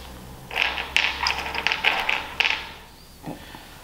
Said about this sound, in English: we can take our screws and I'm going to start screwing them in